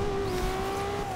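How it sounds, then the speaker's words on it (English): Locked-up brakes on a car in the Forza Horizon 2 racing game during a wet race: a sustained tonal tire squeal holds steady over engine rumble for about a second, with no talking. "Oh man, the brakes is locked up."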